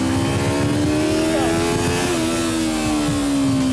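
A high-pitched Yamaha R3 motorcycle engine screams at high revs toward its 12,500 RPM limit, its whine holding steady then dipping briefly between gear shifts, loud and close.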